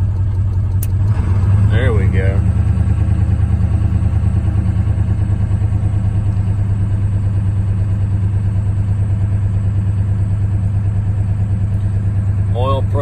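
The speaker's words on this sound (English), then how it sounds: "We've got a tuner in this truck so we can hit this idle." A 7.3 diesel truck engine with a tuner idles after a cold start, a loud, steady low clattering rumble throughout, with brief speech from a man near the start and end.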